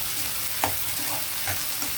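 Fenugreek leaf chutney frying in oil, a soft steady sizzle with occasional stirring scrapes and clinks in the pan, fairly quiet and close, no voices.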